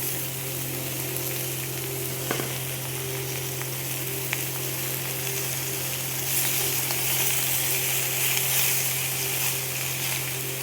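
Malabar spinach cooks in a pan with eggplant, potato, pointed gourd and ridge gourd, hissing in a steady close sizzle with a low hum and a few faint clicks, growing slightly brighter near the end.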